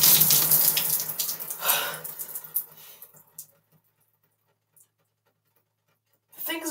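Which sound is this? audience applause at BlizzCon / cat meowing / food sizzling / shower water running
shower water running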